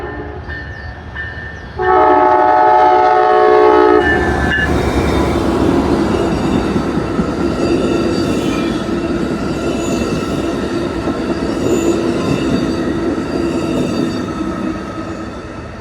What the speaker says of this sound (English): Next up, we have an eastbound Canadian Pacific ballast train.